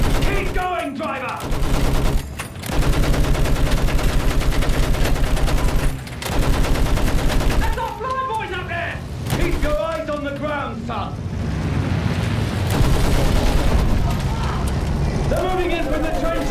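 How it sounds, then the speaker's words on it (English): Machine gun fire in the World War I shooter Battlefield 1, loud sustained bursts of rapid rattling shots broken by short pauses, with shouted voices and battle noise layered over the gunfire. "Use that machine gun! Slow them down!"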